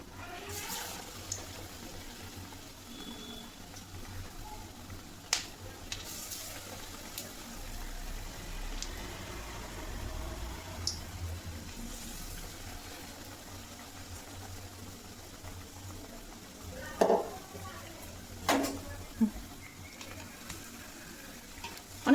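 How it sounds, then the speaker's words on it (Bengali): Long eggplant fritters (begni) fry in hot oil, giving a soft, steady sizzling hiss with a few sharp pops and crackles scattered through it, fairly faint and continuous. "এই যে বেগনিটা ভেজে নিই"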